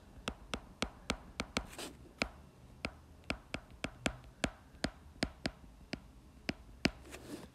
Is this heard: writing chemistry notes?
yes